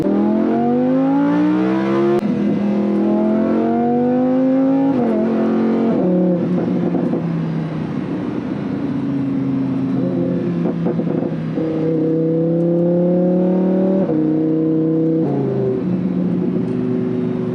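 A 2015 Lamborghini Huracan with a 5.2-liter V10 driven in Corsa mode with manual shifts, loud close engine revving up through the gears in repeated rising pulls broken by shift changes.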